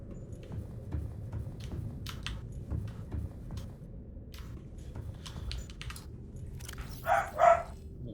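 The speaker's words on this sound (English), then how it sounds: "Dog is very upset about something." A dog barks in a short burst of two or three sharp barks near the end. Before that comes a long stretch of quiet indoor room tone with faint background noise.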